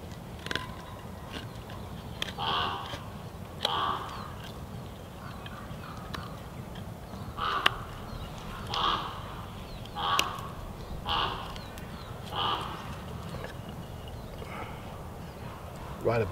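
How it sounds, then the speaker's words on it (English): Harsh croaking calls from a raven repeat every second or two above steady wind and outdoor rumble, fairly close overhead. "Sounds like a raven, that, actually."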